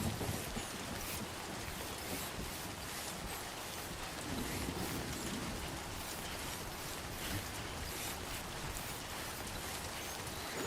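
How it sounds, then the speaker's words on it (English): Heavy rain falls in the video game Death Stranding 2: On the Beach, a dense, unbroken wash of downpour that holds steady at an even level throughout, with no voices. "Why does it have to rain when the game knows I need to cross rivers?"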